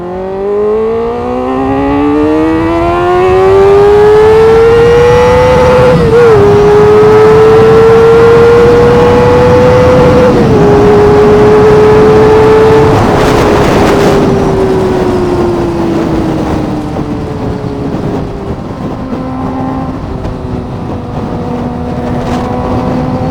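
A Kawasaki ZX-4R motorcycle engine revs loud and close, its pitch climbing steadily and then dropping slightly at each gear shift, with wind rushing over the microphone on a cement road.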